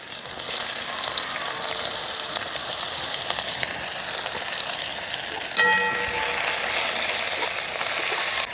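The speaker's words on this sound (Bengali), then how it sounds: "শুকনো লঙ্কাটা একটু ভাজা ভাজা করে নিয়ে দিয়ে দিলাম পেঁয়াজ কুচি।" Chopped onions fry in oil with dried chillies, giving a loud, dense and continuous sizzle up close. Partway through, a brief metallic scrape breaks in and the hiss brightens.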